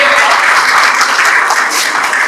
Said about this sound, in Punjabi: ਆਪਾਂ ਸਾਰੇ ਤਾੜੀਆਂ ਮਾਰ ਕੇ ਉਹਨਾਂ ਦਾ ਇੱਕ ਵਾਰੀ ਸਵਾਗਤ ਕਰੀਏ